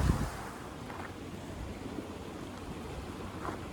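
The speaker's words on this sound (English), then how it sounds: "we got some fast-paced water here with these pools that are slowing down" Fast-flowing river water rushes through a stretch with slower pools in California, a steady broadband roar close to the microphone with no talk.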